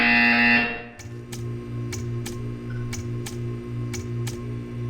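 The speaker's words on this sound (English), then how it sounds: "When you hear the buzzer, stare at the art." A Portal 2 test chamber buzzer sounds in a steady series of short, evenly spaced electronic beeps over a low droning hum, right after a brief bright tone at the start.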